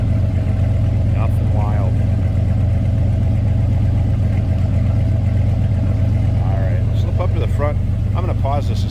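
A 1966 Chevrolet Malibu Sports Coupe with a 383 stroker V8 sends out a steady, deep exhaust rumble at idle, loud and constant throughout, with people talking over it.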